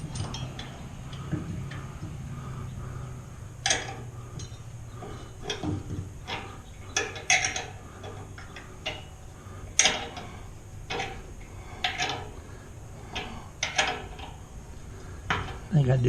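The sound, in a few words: wrench turning bolts while assembling Oklahoma Joe's smoker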